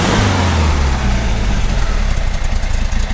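1973 Volkswagen Square Back engine running close by, a loud, rough, throbbing air-cooled rumble that settles into a steady uneven idle, with no speech over it.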